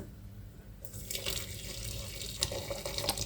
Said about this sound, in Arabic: نكب الماء حسب السكر